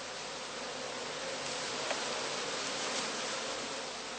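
Honey bees swarming at a heather skep apiary, a dense, continuous buzz at steady loudness, close and unbroken, with no voices.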